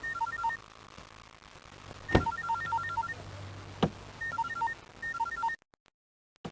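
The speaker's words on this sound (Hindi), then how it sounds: "ओ वो फोन।" A telephone rings in repeated electronic bursts of short trilling tones, with a couple of sharp clicks between rings before it cuts off.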